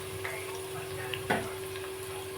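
Onions sautéing in a pan for a large batch of mutton biryani, a steady low sizzle with a few stirring scrapes and one louder clatter midway, heard close.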